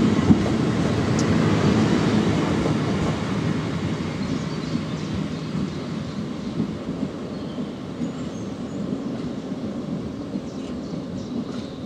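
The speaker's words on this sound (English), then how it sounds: "this is my train departing, which ultimately will end up at London Euston" Train departing Kidsgrove railway station, a rumbling, rolling rail noise with scattered clanks and wheel clatter, loudest at the start and gradually easing as it pulls away.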